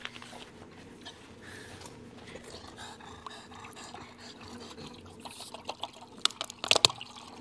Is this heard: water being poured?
yes